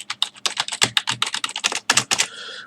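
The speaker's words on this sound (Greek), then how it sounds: "το Wired 400 κάνει θόρυβο μόνο με τα πλήκτρα εντολών όπως το Space, το Enter, το Shift, το Control, το Backspace" Fast typing on a Microsoft Wired Desktop 400 silicone keyboard, a rapid run of close, crisp key clicks with a few heavier strokes.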